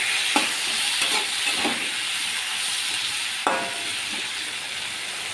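Tender vegetable stalks and thin-cut potatoes fry together in a pan with salt and turmeric, giving a constant bright sizzle and hiss. A few soft stirring knocks punctuate it, and no one speaks.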